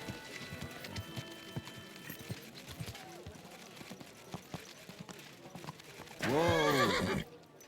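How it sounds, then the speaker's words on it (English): In Kingdom Come Deliverance 2, faint hoofbeats clop along under quiet background chatter, then a horse lets out a loud, close neigh near the end. "Easy, good horse."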